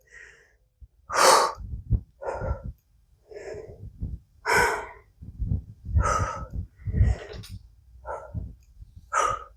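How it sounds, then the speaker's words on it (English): A person doing a full-body HIIT workout breathes out forcefully again and again. About eight loud, close, breathy bursts come at an uneven pace, with quiet gaps between them. "I'm going to exhale on the way up."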